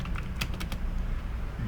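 Rapid keystrokes on a computer keyboard while typing a command at a command prompt: a brief cluster of sharp, close clicks over a low steady hum.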